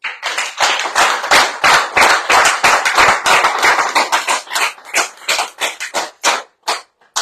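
Studio audience applause on a radio show, a close burst of many hands clapping in a dense, uneven patter that thins out toward the end.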